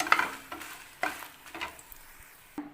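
Dried chillies roast on low heat in a dry pan, heard as quiet scraping and rattling stirs in short bursts about every half second, with no steady sizzle underneath.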